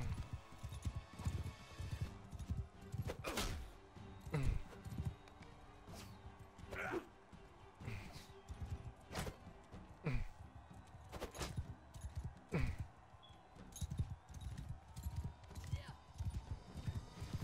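Horse hooves clip-clop in Bannerlord 2, a medieval battle video game, a loose run of sharp hoof strikes repeating through the passage over a busy low rumble of battle noise, with speech mixed in.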